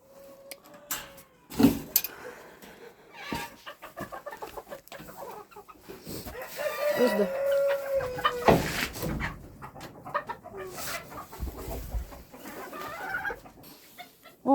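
Mixed-breed hens and roosters in a backyard farm yard clucking and calling intermittently, near and moderately loud, with scattered clatter and handling noises in between.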